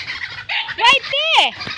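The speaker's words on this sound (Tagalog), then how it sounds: "Hinabol na ang mga manok." Chickens squawking and shrieking in sharp bursts while a dog chases them, close and loud, with a brief voice mixed in.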